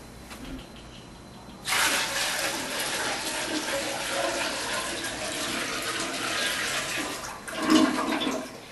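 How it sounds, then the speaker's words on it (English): A toilet flushes after a bucket of collected shower water is poured in, a loud rushing swirl starting abruptly and running for several seconds, with a second surge of gurgling near the end, close by and with no talk over it. "This way you can use it to flush your toilet like this."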